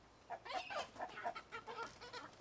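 Roosters on a farm clucking and crowing in short repeated calls, fairly faint and a little distant, with no talking.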